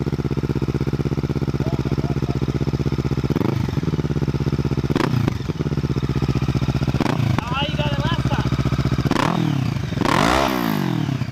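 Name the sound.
parallel-twin motorcycle engine, 180-degree crank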